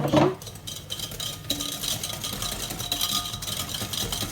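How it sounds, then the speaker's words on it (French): A hand whisk stirs a sugar mixture in a bowl for a fougasse d'Aigues-Mortes, a close, steady clink and scrape against the bowl with a low background hum and no talking. "On n'a pas besoin de batteur, juste avec le fouet."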